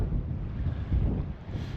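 Strong wind at Lake Havasu buffets the microphone in a continuous low roar and rumble, close and loud throughout with no pauses.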